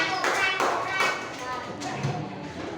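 A group of children applauding together, dense continuous clapping with chatter mixed in, fairly close and fading slightly toward the end.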